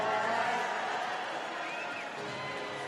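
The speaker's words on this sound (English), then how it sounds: "The crowd are all enjoying themselves." Spectators at the World Para Swimming Allianz Championships in London 2019 cheer and chatter in a large echoing pool hall, a sustained, fairly distant crowd roar with a faint whistle rising above it.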